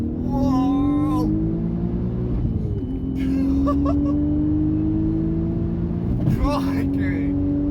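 A 500 bhp Audi RS4 accelerates hard on a fast road, its loud engine note climbing steadily in pitch through long gear pulls with a brief dip at each shift, close and continuous, with a voice exclaiming over it.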